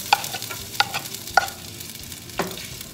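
Ginger frying in olive oil for a mung bean stew gives a soft, steady sizzle. A few sharp clicks of stirring sound close by, with no voices.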